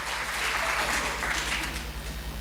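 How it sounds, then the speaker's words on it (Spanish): An audience applauding a volunteer at a talk, a steady, dense wash of clapping from a room of people, moderately loud throughout. "Un aplauso, por favor, a la segunda valiente."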